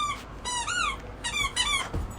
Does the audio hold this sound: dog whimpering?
yes